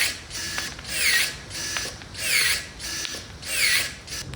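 Brushless Ozito electric pruning shears cutting through a green branch near 30 mm thick, a close motorized whir rising and falling in about four repeated rhythmic cycles.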